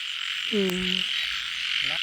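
Asian painted frogs calling at a pond at night, two deep nasal croaks, one loud and drawn out, the next shorter, over a steady high insect drone.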